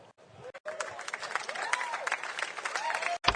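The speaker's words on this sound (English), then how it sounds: "One more big round of applause for your Doritos Pro Combine player unlocks right here." Brief applause from an audience at an MLG 2010 gaming event, faint and somewhat distant, with a voice rising over the clapping.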